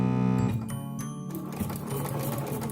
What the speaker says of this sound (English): as I push it through the machine, it just gathers it up very simply